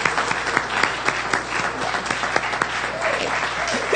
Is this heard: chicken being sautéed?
no